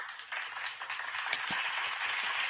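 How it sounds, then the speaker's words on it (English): A short burst of light applause, with scattered hand claps forming a thin, steady patter throughout. "a little applause for the camera work"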